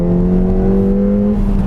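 A 2017 Ford Fiesta ST's turbocharged engine revs up toward its 6,500 RPM redline on a canyon road, giving a loud, steady, close-up drone with strong engine tones throughout.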